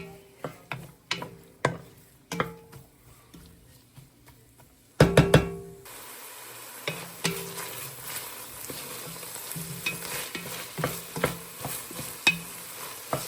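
Onions and celery sautéing in a soup pot, sharp spoon taps and scrapes at a steady pace, then a louder clunk and a rising hiss of frying that continues under repeated stirring knocks.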